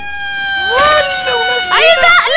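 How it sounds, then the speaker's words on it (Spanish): A steady, tonal siren wails in the Minecraft video game while excited voices shout loudly over it. "¡Una sirena! ¡Ahí está! ¡La sirena!"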